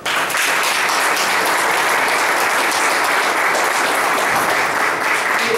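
An audience at a book presentation in Naolinco applauds with steady, dense clapping that fills the whole stretch at an even, fairly loud level.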